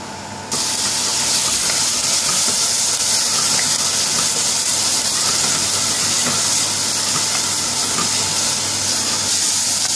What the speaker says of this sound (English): So we'll put some vegetable oil and then the shredded onion for the gravy.